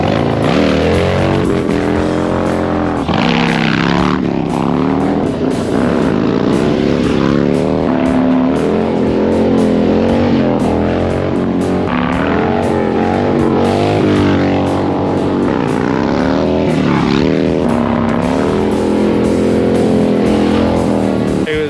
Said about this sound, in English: Sounds like somebody's practicing a wheelie.